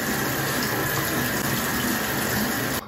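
Tap water runs into a sink during a morning summer skincare face wash, a steady close hiss and splash that continues without a break until it stops just before the end.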